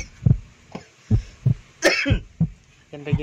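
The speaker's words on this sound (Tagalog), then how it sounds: "Inuubo ka na." A series of short, harsh coughs repeat at a steady pace, close and fairly loud, with a brief rough burst partway through.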